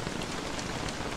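Steady rain in the survival video game Don't Starve Together, a dense, even patter of drops falling on the ground with no talking.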